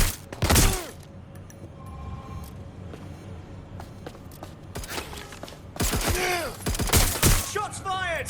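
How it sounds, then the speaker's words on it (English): Gunshots in Watch Dogs: Legion on PS5 ring out as a loud early volley, then a quieter stretch, then a rapid cluster of shots with echoing tails. "Shots fired!"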